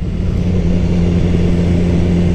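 A motorcycle engine running steadily at light throttle while riding at around 50 km/h: a low, even rumble with a constant harmonic hum, close and continuous, with no talking.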